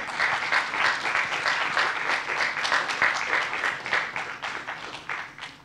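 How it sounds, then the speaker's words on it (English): An audience applauds a company team at a founder's talk, dense continuous clapping that holds steady and fairly loud throughout before tapering slightly at the end. "can you please join me in giving a big round of applause to the team at Mycelio for putting this together"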